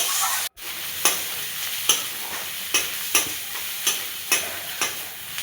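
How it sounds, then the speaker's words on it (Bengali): Chopped onion and green chili fry in hot oil with a steady sizzle. About eight regular scraping stir strokes sound close up, and no one speaks. "এবার আবারও নেড়ে নিচ্ছে। সবগুলো ভালো করে লাল লাল করে ভেজে নেবে।"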